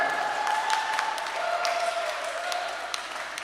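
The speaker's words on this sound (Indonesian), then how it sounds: "Kita berikan tepuk tangan yang meriah untuk perwakilan wilayah 1" A church congregation at HKBP Tamarunang gives lively applause, a sustained patter of many hands with sharp individual claps, while a voice and faint tones sound underneath.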